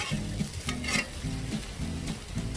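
Chickpea flour socca flatbread sizzles steadily in a pan after being flipped with a spatula, a dense frying hiss with rhythmic low scraping pulses and no voices.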